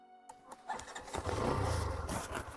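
A Hero Xtreme 125R motorcycle engine is cranked and fires up, a brief start followed by a steady rising engine note close to the microphone.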